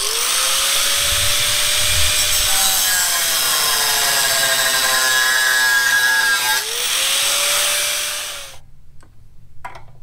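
A bolt clamped in a vise has its head sawn off with a hand saw in long continuous strokes, a steady rasping cut that rises and eases over several seconds, loud and close, before stopping.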